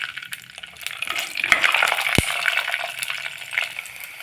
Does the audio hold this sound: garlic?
yes